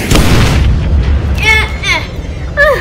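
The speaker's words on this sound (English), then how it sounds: "And the bomb is about to blow up." A cartoon bomb explodes with a loud booming burst at the start, its rumble carrying on under cartoon voices and squeaky, pitch-sliding character sounds that follow.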